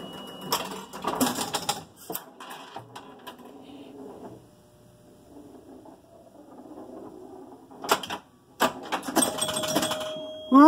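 Gottlieb Jungle Princess pinball machine in play, with a fast mechanical rattle of chimes, clicks and flipper hits coming in loud bursts near the start and again toward the end, separated by a quieter stretch of low rumble.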